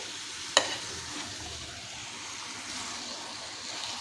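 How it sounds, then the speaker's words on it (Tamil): Mutton and masala stirred in an open pressure cooker, a soft steady sizzle and scraping with one sharp metallic knock near the start, no speech. "மசாலாவோடு சேர்த்து கொஞ்சம் நல்லா கலந்து விட்டுக்கோங்க"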